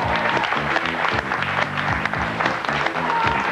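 Audience applause for Rico the clown in a TV studio, dense and steady clapping filling the whole stretch with voices and music-like tones mixed beneath it.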